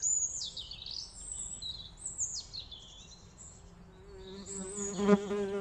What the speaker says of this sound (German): Da ist sie wieder, die Wespe.